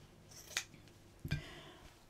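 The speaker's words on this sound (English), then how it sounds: "I'll just cut a little piece off." Scissors snip through a scrap of fabric, with two crisp, close cuts in a quiet room and no talking.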